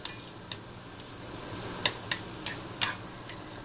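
Onions sizzle and caramelize in a pan, a soft steady frying hiss broken by scattered crackles and pops, close and fairly quiet with no talking.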